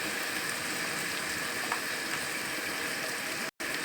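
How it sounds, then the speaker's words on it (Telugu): Ginger garlic paste frying in a pan for country chicken curry, an even crackling sizzle that holds steady before a brief cutout near the end. "మనం అల్లం వెల్లుల్లి పేస్ట్ వేసుకుంటున్నాం"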